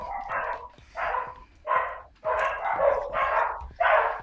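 Several dogs, four in a home, bark in a steady run of loud, close yips and woofs with short gaps between them and no talking.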